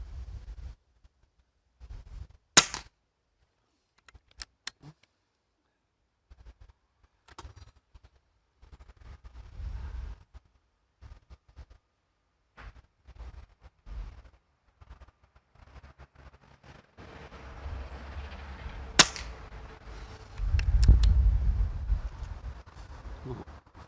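Rifle shots fired at a target from a shooting rest on a windy range, heard as a few sharp, loud cracks spaced apart, with handling noise and gusts of wind buffeting the microphone between them.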